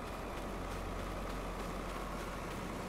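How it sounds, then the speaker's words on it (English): Farming Simulator 22 tractor engine idling as a steady, continuous rumble with a dense low-end drone and a hissing top, constant in level throughout. "Yeah, I really like that tractor, the sounds of it."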